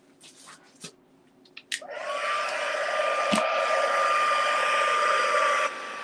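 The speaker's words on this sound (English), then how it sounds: "we'll just use our heat gun" A heat gun switches on after a few soft clicks and blows a steady, loud rushing whoosh with a thin whine over a silicone craft mat, running about four seconds before cutting out.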